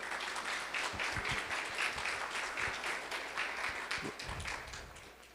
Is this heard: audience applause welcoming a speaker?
yes